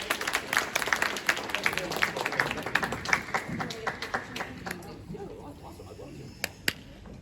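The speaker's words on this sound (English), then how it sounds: "please give a round of applause for Alex." A convention Q&A audience applauds, sparse individual claps standing out over a thinner crowd patter that fades after about five seconds, leaving a couple of isolated claps near the end.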